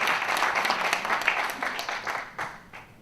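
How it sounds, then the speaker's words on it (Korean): Audience applause greets a professor at a 2018 mission conference lecture, a steady wash of many hands clapping at moderate distance, slowly thinning toward the end. "저희 교수님 나오실 때 큰 박수로 환영해 주시기 바랍니다"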